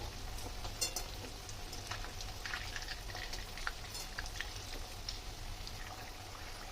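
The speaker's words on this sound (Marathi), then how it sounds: "आपण या मीडियम गॅसवर थोड्या छान अशा ब्राउनिश होईपर्यंत तळून घेऊयात." Potato sticks deep fry in oil over medium heat, a steady soft sizzle and bubbling hiss with faint crackles, close and continuous.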